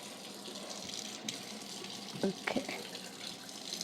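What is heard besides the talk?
water sprinkled on hot griddle for dosa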